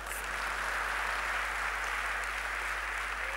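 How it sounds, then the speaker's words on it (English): Students clap together in a classroom, a faint, even wash of clapping that holds steady for a few seconds over a low background hum. "Clap for me."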